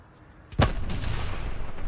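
A single loud sniper rifle shot in the shooter game Call of Duty Black Ops 4, a sharp crack followed by a sustained rumbling tail of battle noise, with no speech.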